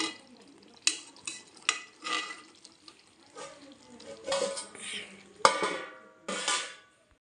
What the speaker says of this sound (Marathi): आता आपण थोडी मिक्स करून घेऊया